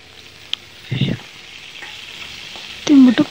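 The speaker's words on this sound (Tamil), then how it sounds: "வெங்காயம், பச்சை மிளகாய், கருவேப்பிலை, கொத்தமல்லி எல்லாத்தையும் போட்டு நல்லா கிளறி விட்டுக்கோங்க." Onion, green chilli, curry leaves and coriander are stirred in a hot pan for kuzhi paniyaram, giving two short bursts of scraping and sizzling with a quiet, steady fry in between.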